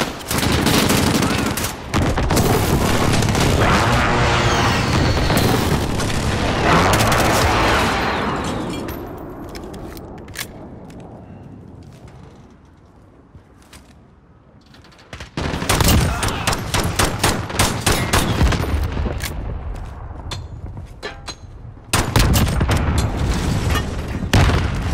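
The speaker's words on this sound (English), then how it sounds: "Be advised, friendly precision airstrike inbound." Precision airstrike detonations in a first-person shooter video game: a sustained roar of loud, rolling explosions and gunfire, a brief lull, then renewed heavy booming blasts and bursts of shooting.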